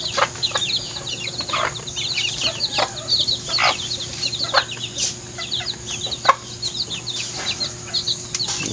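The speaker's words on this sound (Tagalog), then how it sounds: "Mga native native chicken, mga native naman ng bunso, alaga ni bunso." Native chickens cluck steadily in a close flock, with repeated short calls and occasional wing flaps over a low steady hum, no talking.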